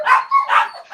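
Excited dogs yapping and whining in quick succession, high-pitched overlapping barks close by with a continuous, restless rhythm and no talking over them.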